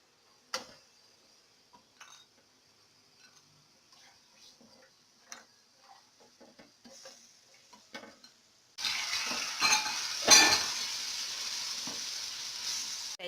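Grated carrots for halwa cooking in ghee in a pan: sparse ticks and light scrapes of stirring at first, then a sudden steady sizzle of frying rises and continues loudly, with a sharp utensil clank near the end.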